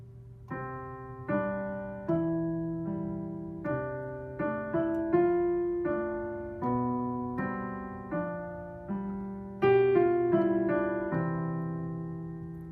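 Piano plays a steady Alberti bass accompaniment, low note then higher notes in a repeating bottom-top-middle-top rocking figure, with the harmony shifting every bar or so.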